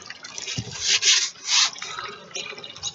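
Water runs steadily through a Lego sluice concentrator toward a circular magnet and Miller table, a bright continuous trickle and splash that swells in brief gushes.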